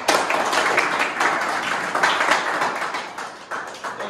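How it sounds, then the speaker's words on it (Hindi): An audience claps for selected students of a commando defence academy after an Agniveer recruitment result, a brisk, even patter of many hands at moderate loudness. "एक बार सभी तालियों में।"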